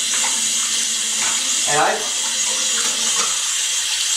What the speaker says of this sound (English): So what I do now is I just get a little water going